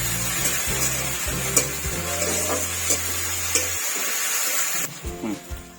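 Garlic added to browned onions fries in a pan with a steady low sizzle, punctuated by a few clinks and stirring scrapes, close and fairly quiet.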